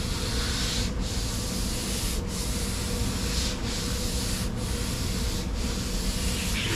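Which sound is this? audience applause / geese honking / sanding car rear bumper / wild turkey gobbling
sanding car rear bumper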